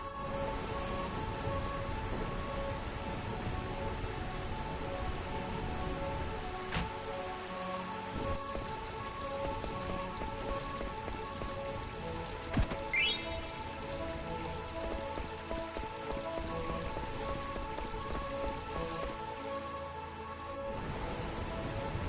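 Steady rain falling in the rainy city of Burmecia in Final Fantasy IX, constant dense patter on surfaces with a brief rising chime-like sweep midway.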